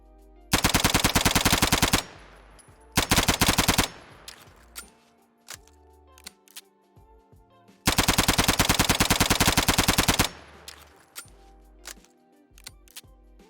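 Two long bursts of rapid automatic submachine gun fire in the video game Fallout 4, close and loud, separated by quieter clicks and mechanical handling sounds, with no talking.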